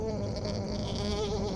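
A car's fan belt screeches with the air conditioning running, a continuous high, wavering whine riding over a steady engine hum for the whole moment.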